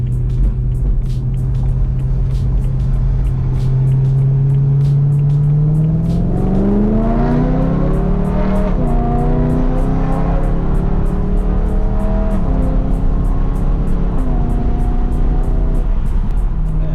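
BMW E90 M3 on Eibach lowering springs, heard from inside while driving: a steady engine drone rises as the car accelerates through the gears, with pitch climbing and dropping at each shift, loud and continuous with no talking.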